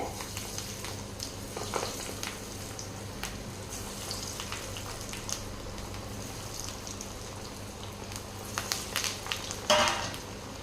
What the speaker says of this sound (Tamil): எண்ணெய் வந்து இப்போ நல்லா சூடாயிடுச்சுங்க. நம்ம தட்டி வச்ச வடைகள் வந்து சேர்த்திக்கலாங்க.